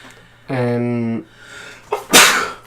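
A voiced, drawn-out breath followed by a sharp, loud burst of air, like a sneeze, close to the microphone.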